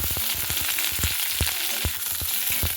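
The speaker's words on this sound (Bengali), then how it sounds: "তো বেগুনটাকে দিয়ে একটু হালকা নাড়াচাড়া করে নেব" A whole eggplant fries in oil with already-fried vegetables, stirred gently. A constant close sizzle is punctuated by a regular series of sharp spatula knocks and scrapes, with no talking.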